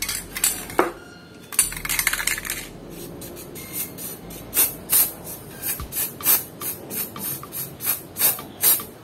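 ATM A210 black spray paint is sprayed onto plastic in short hissing bursts, mixed with rattling clicks of the can nearby. Each burst is brief and close, with no talk.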